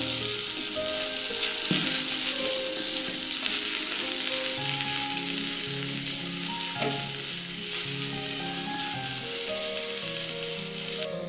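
Eggplant slices frying in hot oil for vegetable khichdi give a steady, dense, loud sizzle that runs unbroken from start to finish, close up with no voices.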